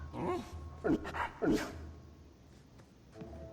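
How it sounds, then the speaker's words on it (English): A Mabari war hound in the video game Dragon Age II gives two or three short, fairly quiet barks in quick succession, with a voice talking nearby. "oh, look at your puppy. Nice hound, sister."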